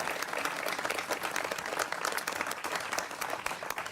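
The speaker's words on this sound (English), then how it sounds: "let's give them a round of applause" Applause for a group of partners at a university event about turning a former dormitory into a Hilton hotel: dense, steady clapping from a crowd, sustained evenly across the clip with no speech over it.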